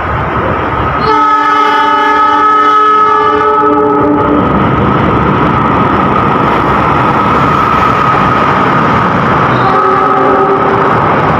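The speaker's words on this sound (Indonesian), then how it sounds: "melintas langsung stasiun Purwosari menyusul kereta api Pasundan Lebaran" A passenger train's horn blares in long sustained blasts as it rumbles steadily through Purwosari station up close without stopping, with a second shorter horn call near the end.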